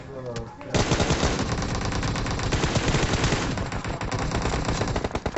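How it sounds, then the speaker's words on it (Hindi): Sustained, dense automatic gunfire from a battle royale video game, rapid loud bursts that start abruptly and continue almost without pause. "अंधाधुन फायरिंग हो रहा है यहाँ पे"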